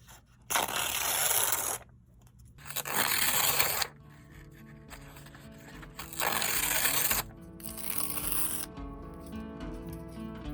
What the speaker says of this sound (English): Listen to the sound I make when I'm tearing the paper.